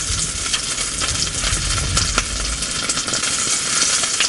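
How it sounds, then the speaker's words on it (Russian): Fresh chebak fish sizzles steadily in hot oil in a pan, a dense crackling hiss with small pops throughout, no talking. "Рыба очень свежая, поэтому, наверное, быстро будет жариться"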